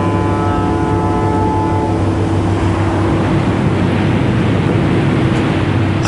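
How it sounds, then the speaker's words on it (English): Icebreaker ship moving through ice: a loud, steady engine drone and hull rumble with a constant low tone, wide noisy grinding spreading as it pushes on, no voices. "Ice-breaking ships."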